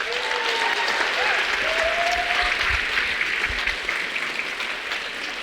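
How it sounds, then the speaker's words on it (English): A room full of people claps steadily for several seconds, a dense, even wash of applause with a few faint whistles. "give yourself a round of applause."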